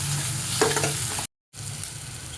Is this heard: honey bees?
no